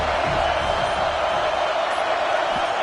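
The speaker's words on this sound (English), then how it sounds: "The Tide crowd rolling noise down onto Saban Field on 3rd down." The Alabama crowd at Saban Field roars during a football game against Georgia on third down, a loud, sustained wall of stadium noise that stays even from start to finish.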